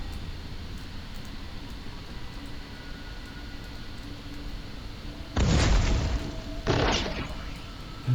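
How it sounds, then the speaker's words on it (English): A signal bomb goes off in the sci-fi video game Space Grunts 2, bursting as a loud noisy blast followed by a second shorter burst over a low steady game hum. "let's drop a signal bomb here"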